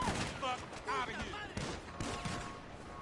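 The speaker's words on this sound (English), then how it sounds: "There's more gunshots." Rapid gunfire bursts from the GTA 5 video game crackle through the mix while players talk and shout over them, the shots fairly loud and irregular.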